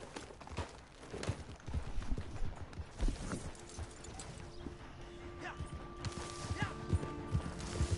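Horse hooves clip-clopping in Red Dead Redemption 2 Online, a steady walking rhythm with creaks and other game sounds mixed in, continuing throughout.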